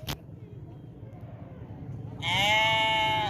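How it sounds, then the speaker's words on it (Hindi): Goats on a goat farm bleat in a loud, close, wavering call that rises over a low rumbling background during the last second. "ये देखे ना अल्हम्दुलिल्लाह से ये बकरी हैं"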